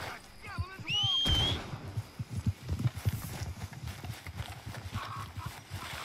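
A horse in the Red Dead Redemption 2 video game neighs sharply, then hooves clop steadily on the ground as someone talks over the sound.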